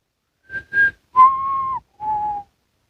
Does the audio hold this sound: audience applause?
no